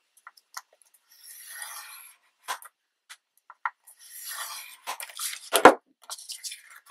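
Scoring paper for a 12x12 scrapbook interactive folio, with short scraping and rubbing strokes of a tool along the paper, separated by clicks and taps, close and fairly quiet, no talking.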